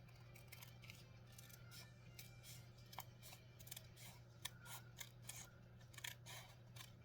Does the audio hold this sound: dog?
no